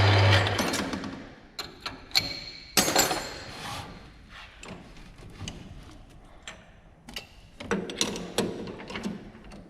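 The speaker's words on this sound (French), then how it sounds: "J'ai percé à 4 et ensuite j'ai percé à 5." A metal part for an Abarth 595 engine build is drilled with 4 mm and then 5 mm bits in preparation for an M8 x 1.00 thread. A steady grinding whir runs under sharp scraping bursts and knocks, close and loud, with no voices.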